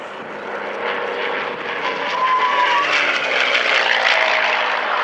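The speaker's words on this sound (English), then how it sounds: "Alistair Kay and the P51 Mustang." A P-51D Mustang's piston engine drones loudly overhead at an airshow at Dunsfold, a steady propeller roar that swells slightly as the aircraft passes.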